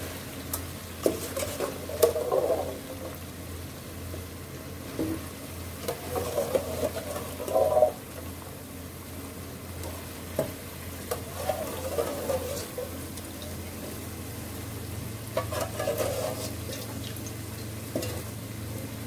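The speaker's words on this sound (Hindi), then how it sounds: "मिक्स करेंगे और इनको भून लेंगे मसाले में पहले।" Boiled white chickpeas being stirred and roasted in a masala gravy base, with steady frying sizzle and periodic scraping stirs of a spoon against the pot, close and continuous with no talking.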